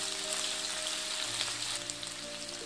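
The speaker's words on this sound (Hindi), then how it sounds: "तो जीरा हमारा क्रैकल हो चुका है, अब हम यहाँ डालेंगे ये आलू।" Potatoes frying in a pan with crackled cumin for sabudana khichdi, a steady close broadband sizzle with fine crackling throughout, no talking.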